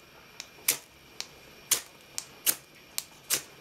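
A cheap imported ferro rod fire starter scraped with scissors: about seven sharp, scratchy strikes at an irregular pace, close by and crisp against a quiet background, with no talking.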